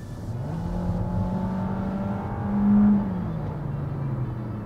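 A Kia Optima's four-cylinder LPG-fuelled engine revs up to a high, droning whine, peaking briefly before settling, heard close and steady with no talking.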